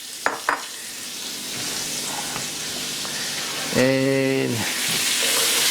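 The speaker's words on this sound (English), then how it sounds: "Put some of the onions in there." Chopped onions hitting a hot pan used for Italian-American chicken scarpariello, giving a steady broadband sizzle throughout, with a voice briefly under it and a short clatter near the start.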